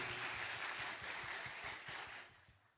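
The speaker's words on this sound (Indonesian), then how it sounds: "Kita berikan aplaus kepada Pak Menko yang sudah hadir." Audience applause greeting Indonesia's Coordinating Minister Luhut Binsar Panjaitan at a sustainable investment project launch in Jakarta, a steady wash of clapping that holds for about two seconds, then thins and fades out.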